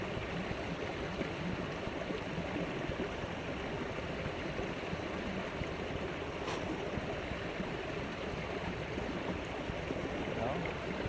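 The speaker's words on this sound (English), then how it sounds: "And stuff it in the moving water." Fast-moving silty creek water rushes steadily and close throughout while a canteen wrapped in a bandana is held under to fill, a continuous broad wash with no talk.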